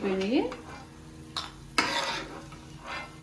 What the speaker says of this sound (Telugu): ఈ క్యారెట్ వేసేసుకున్నాము ఆ నెయ్యిలోనే బాగా ఫ్రై అవ్వాలి